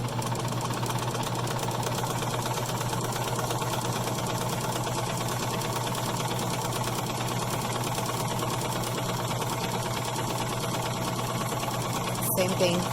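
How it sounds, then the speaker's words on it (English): A sewing machine stitching a fabric mask runs in a steady fast whirring patter, close and even, with a brief clunk near the end. "And then you're going to sew down."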